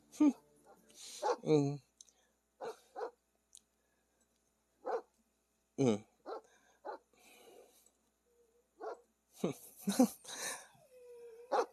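Three dogs play together, giving repeated short barks and whimpers in irregular bursts between quiet gaps, with people talking in between.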